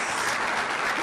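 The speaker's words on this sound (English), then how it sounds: "Quick applause for that, please." A brief burst of dense, even audience applause at a Pratt Community College student achievement awards ceremony, filling the room with no gaps.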